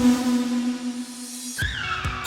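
A toy race car crashes after a long, steady engine-like drone, ending in abrupt skidding squeals and a few quick impacts, close and moderately loud.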